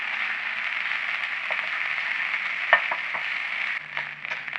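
Chopped garlic and smoked beef fry and get stirred in a pan for an omelet dish, a continuous even sizzle with a few sharp utensil scrapes and knocks near the end, no voices.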